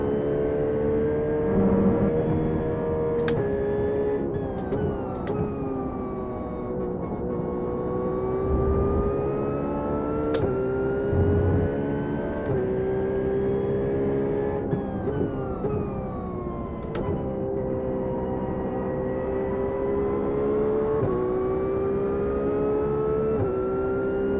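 A GT race car engine in the iRacing video game at Watkins Glen International holds a loud, continuous high-pitched drone that climbs and dips with each gear change, with brief sharp clicks along the way.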